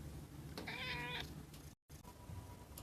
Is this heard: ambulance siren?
no